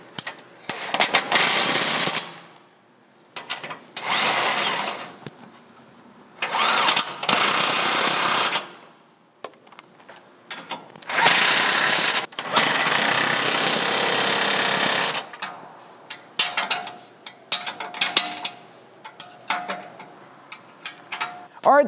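Half-inch bolts being driven tight on a Toyota Tacoma gas tank skid plate, heard as several loud, close bursts of rattling mechanical whirring, each lasting one to three seconds, separated by short pauses and a few softer clicks.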